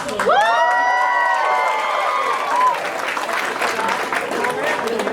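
Audience applause and cheering at a Muslim comedy festival show, loud and continuous from a full crowd, with a sharp whoop rising early and the clapping carrying steadily to the end.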